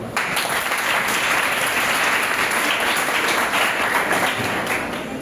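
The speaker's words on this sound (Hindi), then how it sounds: "ये बहुत अच्छी बात है, ताली बजाइए अपने लिए।" Government school children in Bihar, India applauding themselves, a loud dense crowd of clapping that holds steady throughout.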